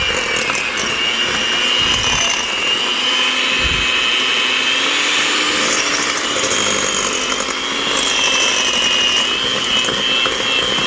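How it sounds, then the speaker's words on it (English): A Hamilton Beach handheld mixer beats butter at high speed, giving a loud, steady, high-pitched motor whine with a grinding, rattling edge that stays constant for the whole stretch. "I'm using her regular old Hamilton Beach handheld mixer."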